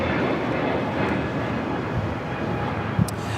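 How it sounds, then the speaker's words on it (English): A JetBlue Airbus A321neo LR jet takes off from Los Angeles International Airport, a steady broad roar of engine noise at a distance, filling the clip evenly with only a brief small bump near the end. "That is JetBlue Flight 2010 taking off to West Palm Beach on the A321 Neo LR"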